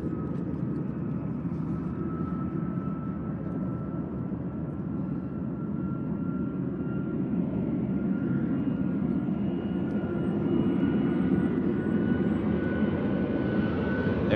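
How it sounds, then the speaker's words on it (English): A Boeing 737 MAX 9 on its first flight takeoff, a steady broad jet engine roar heard from a distance that swells slightly toward the end, with no talking. "Let's watch it go"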